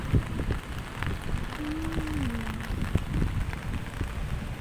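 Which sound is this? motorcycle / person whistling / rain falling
rain falling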